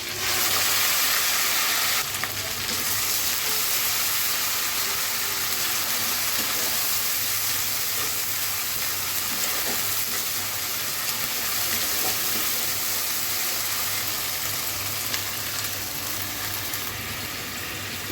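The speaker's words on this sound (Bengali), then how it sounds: "পেঁয়াজটা একটু ভেজে নিব হালকা করে এখানে যে সরিষাটা বেটে রেখেছিলাম সেটা দিয়ে দিলাম" Chopped onion sizzles steadily in hot oil in a pan as ground mustard paste is added, a loud continuous frying hiss with occasional stirring, close up and with no talking.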